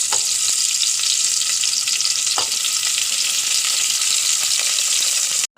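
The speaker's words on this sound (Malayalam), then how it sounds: "എണ്ണ ചൂടായി, വെല്ലുള്ളി ഇടുന്നു." Garlic sizzling in hot oil inside a pressure cooker, a loud continuous frying hiss with occasional stirring clicks, close and steady with no talking.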